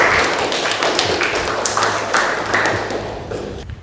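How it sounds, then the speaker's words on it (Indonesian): A class claps together in a classroom, a brief round of close, moderately loud applause with uneven individual hand claps. "Tepuk tangan untuk kalian."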